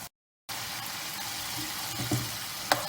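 A deboned ilish fish fillet fries in mustard sauce with a steady, close bubbling sizzle after a brief silence, a small clink and a sharp tap breaking through near the end.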